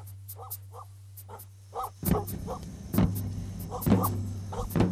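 Dogs on a farm bark repeatedly in quick pairs and short bursts, close and fairly loud, over a low steady hum, with the barking growing busier and overlapping toward the end.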